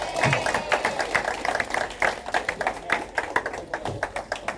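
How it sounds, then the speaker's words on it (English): Audience applause at a quarterback club meeting, a dense run of sharp claps and taps filling the whole stretch at moderate level, with faint murmurs underneath. "let's give them a big round of applause"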